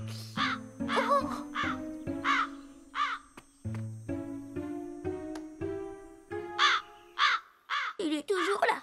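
A cartoon crow caws repeatedly in short raspy bursts between stretches of French speech from the characters, fairly close and clear.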